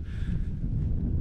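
Steady low roar of wind buffeting a microphone, rumbling and continuous, close and fairly loud, with no talking.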